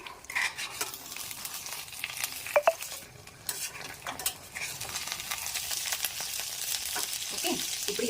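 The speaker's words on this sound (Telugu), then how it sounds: "స్లో ఫ్లేమ్లో కుక్ అవనిద్దాం ఇవి ఇప్పుడు విరిగిపోకుండా కొద్దిగా పక్కకు తీసుకుందాం వీటిని" Boiled eggs cooking in oil in a pan over a slow flame give a steady, moderate sizzle, with a couple of brief sharp pops and light clatter, and no voices.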